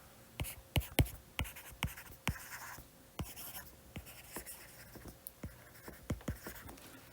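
Chalk or marker writing on a board during a physics lecture, heard as a series of sharp, close taps and short strokes in an uneven rhythm, with no talking.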